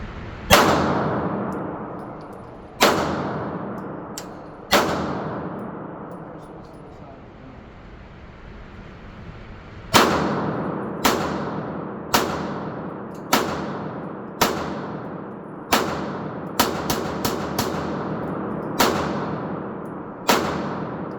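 A Canik TTI pistol fires its first shots on a range with 115-grain Browning ammunition: loud, sharp reports that ring with a reverberant decay, a few spaced shots first, then a quicker string of about a dozen.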